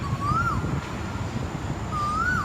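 A bird known as the Ooo-Ooo bird gives two clear rising-then-falling hooting calls about 1.5 seconds apart, fairly near, over a low rumbling background.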